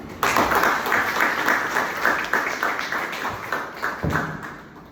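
A room full of people claps in a lively burst of applause that gradually thins and fades over a few seconds.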